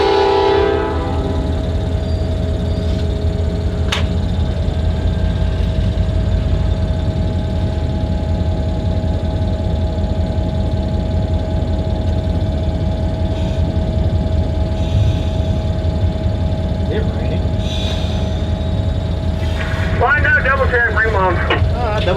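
Clinchfield Railroad diesel locomotive 2561 idling and creeping during freight switching, a steady low engine rumble with a sustained tonal whine, heard from inside the cab, with brief squeals near the end.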